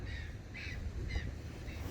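A bird calls in a garden, with several short, harsh caw-like cries at fairly even intervals over a steady low background rumble.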